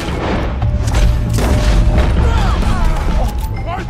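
Loud pistol shots and booming gunfire in a Red Dead Redemption 2 shootout, a volcanic pistol among them, heavy blasts layered with game chatter and a player talking over the chaotic din.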